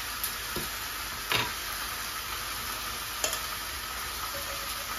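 Rice with turmeric frying in a pan like khichuri, a steady soft sizzle with a few light stirring scrapes and clicks, close and fairly quiet, no voices.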